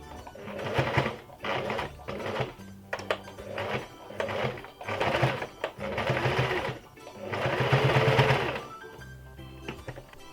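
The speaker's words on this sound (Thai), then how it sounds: "ก็ให้เราเย็บ กดงานค่ะตามแนวนะคะ" A sewing machine topstitches a fabric pet scarf, running in several loud close bursts of rapid mechanical stitching separated by short pauses.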